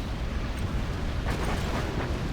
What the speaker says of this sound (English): ExCaL fires the artillery